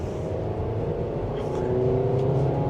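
A 2026 Nissan Sentra SR in sport mode pulling up a steep incline, its engine drone steady and rising slightly in pitch from inside the cabin, a continuous moderate hum with faint road noise.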